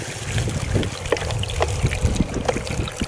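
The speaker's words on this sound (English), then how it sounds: "the water coming through the scoop is plenty of water to do the flush job" Water flushes dirt through a gold prospecting scoop with a steady trickling, splashing flow and small irregular gurgles, close and moderately loud, with no voices.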